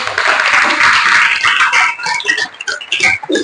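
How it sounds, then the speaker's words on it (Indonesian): Audience applause fills the room, a dense wash of clapping that is loud and steady at first, then thins into scattered, uneven claps toward the end. "Terima kasih, tepuk tangan"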